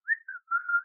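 A person whistles a short, clean melodic phrase of three to four pure notes, close and alone with no talk.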